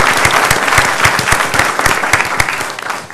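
A crowd at a school board meeting applauding steadily, many hands clapping in a dense, even patter that holds throughout with no voices over it.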